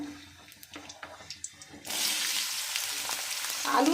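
Vegetables going into hot oil in a wok for chow mein, with potatoes already cooking: a burst of loud, steady sizzling breaks in after quiet clatter and keeps going, growing louder toward the end.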